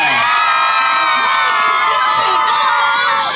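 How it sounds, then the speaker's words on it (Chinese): An audience screams and cheers at an outdoor summer carnival concert in Hualien, a loud sustained roar of shrill whoops and shouts. "我不知道你们尖叫声还在不在？"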